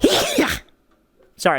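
A person sneezes once, sharp and close, after a brief pause following speech, and then someone speaks again.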